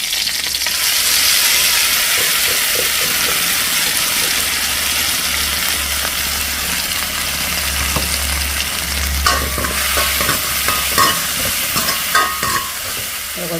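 Onions fry in a pan as ginger-garlic paste is stirred in. A loud, continuous sizzle runs throughout, and sharper scraping stir strokes come through toward the end.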